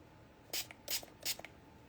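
Three short, soft hissing mists of card spray onto a vintage baseball trading card, evenly spaced bursts close by, each followed by a faint tail, in a quiet room with no talk.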